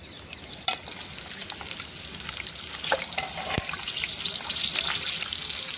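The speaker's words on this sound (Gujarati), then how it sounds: "આપણે મરચાં પણ તળી લઈશું" Green chillies fry in hot oil alongside sweet corn bhajiya, giving a steady crackling sizzle with occasional sharp pops that grows slightly denser toward the end, close and fairly quiet.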